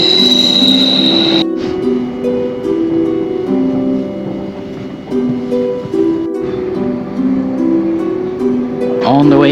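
A passenger train ride rumbles steadily with rolling wheel noise and sustained tonal hums, punctuated by brief gaps and a rising squeal near the end.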